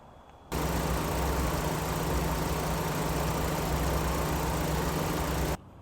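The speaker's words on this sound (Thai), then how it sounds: "เดี๋ยวต่อจากนี้เราไปฟังเสียงเครื่องยนต์กันนะครับ" A 2019 Mitsubishi Xpander engine idles steadily with a low, even rumble and hum for about five seconds, then cuts off abruptly, with no voices.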